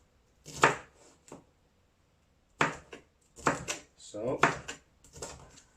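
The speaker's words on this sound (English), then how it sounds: "here I am chopping in real time" A knife chops capsicum on a board in a home kitchen, giving a few sharp taps and short bursts with pauses between them, while a person talks briefly.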